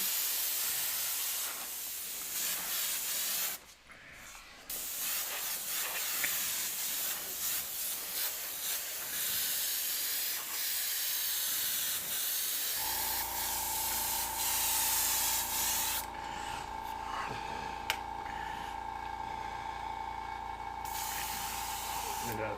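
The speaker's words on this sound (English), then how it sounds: "I'm going to spray this charcoal down" An airbrush spraying charcoal paint, a steady close hiss running almost without pause, with a louder, steadier compressor tone joining partway through.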